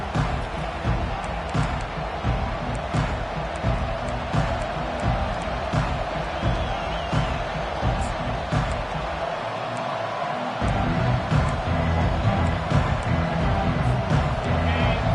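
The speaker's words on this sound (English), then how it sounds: "This crowd trying to show them what it's going to be like all day in this house." Dense, roaring football stadium crowd at a Texas A&M game just after the opening kickoff, a steady loud wash of cheering and yelling that swells slightly louder toward the end, with scattered shouts and whoops.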